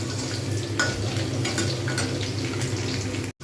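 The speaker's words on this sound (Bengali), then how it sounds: "ভালোভাবে নাড়তে হবে তাহলে কিন্তু সব দিকটা সুন্দরভাবে ভাজা হবে" Chicken pakora frying in hot oil makes a dense, steady sizzle close by, with occasional scrapes and knocks as the pieces are stirred, ending in a brief cut-out.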